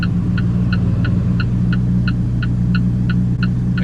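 Alfa Romeo 4C sports car driving on backroads, a steady, loud interior engine rumble and hum with a regular ticking pulse throughout.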